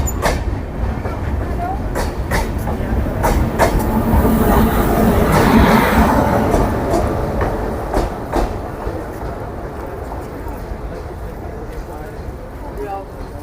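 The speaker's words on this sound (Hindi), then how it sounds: "फाइनली 6:20 पर हमारी ट्रेन का जो अराइवल है वो रुड़की पर हो चुका है" An Amrit Bharat Express train pulls into Roorkee station in a steady, loud rumble of wheels and carriages that swells mid-way and then eases, with talk over it.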